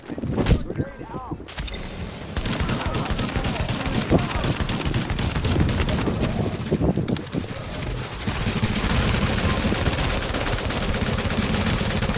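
Sustained gunfire in The Division, rapid shots rattling continuously at close range amid battle noise, with excited voices talking over the shooting.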